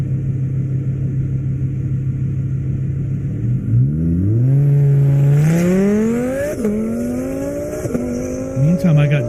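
A Ford Mustang GT500 drag racing down an airport runway: a loud, close engine note holds steady, then surges into a hard launch, climbing in pitch through several gear changes.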